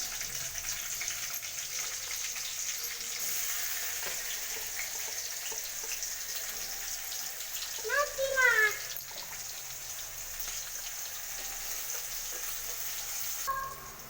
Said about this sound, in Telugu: ఇప్పుడు మనం పచ్చిమిర్చి ఉల్లిగడ్డ వేసి వేయించుకుందాం